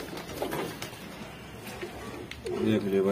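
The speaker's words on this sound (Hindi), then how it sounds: "कैसा खूबसूरत कबूतर।" Pigeon cooing, a show bird praised for its beauty, with a clearer burst of coos near the end under voices talking close by.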